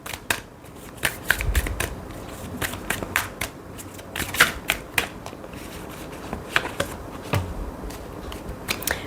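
Oracle cards are shuffled close up in quick crisp riffles and flicks, the sharp papery snaps coming in irregular bursts over a quiet room with no talking.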